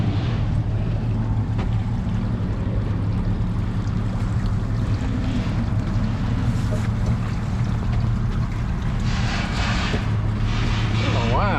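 A boat engine hums steadily at low pitch as the vessel pulls slowly out of a boat ramp, with water sloshing and faint voices in the background.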